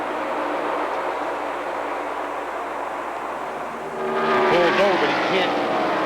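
NASCAR Winston Cup stock cars race at Pocono International Raceway in 1992, a loud sustained engine drone that surges as cars pass close by, with commentators talking over it.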